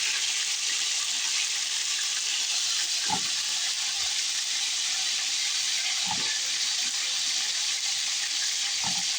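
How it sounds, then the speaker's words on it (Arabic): Chicken pieces sizzle in hot ghee with a constant bright crackling hiss, joined by a few soft clinks and knocks from a utensil against the pan. "بعد كده بنحط فيها الفراخ بتاعتنا بعد ما قطعناها بالطريقة دي"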